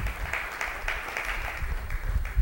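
Applause from a congregation during a Spanish-language religious teaching, moderate and slightly distant with individual claps pulsing through for about two and a half seconds, with low rumbling handling noise near the end.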